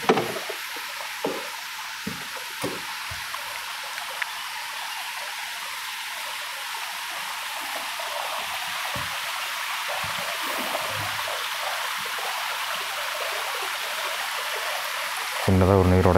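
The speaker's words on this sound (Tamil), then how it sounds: "சின்னதாக ஒரு நீர் ஓடை." A small stream flows through a forest beside a slippery hill road, a close, constant rushing hiss with occasional soft knocks and a low hum rising near the end.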